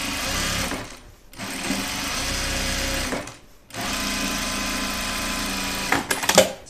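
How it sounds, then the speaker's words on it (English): A sewing machine stitches down a seam allowance toward the yoke of a reversible button-up shirt, running loud and steady in three long bursts separated by brief pauses. "I'm gonna push the seam allowance towards the yoke and stitch it down"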